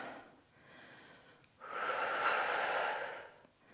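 A person breathes during a stretching exercise: a soft breath, a pause, then a long, audible exhale, close and quiet, with no talking.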